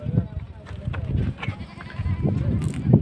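Goats bleat in short, repeated calls at a crowded goat market at a bypass mandi, mixed with nearby people talking and background crowd noise.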